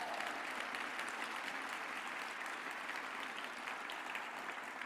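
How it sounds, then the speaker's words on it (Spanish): A church congregation at a Sunday service claps together in steady, sustained applause that fills the room evenly from start to finish. "un aplauso al Señor bien fuerte?"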